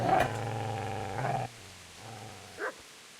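A dog in Kingdom Come: Deliverance gives a loud, harsh growling bark, then lower rumbling growls and a short yelp-like sound, all close and without other voices.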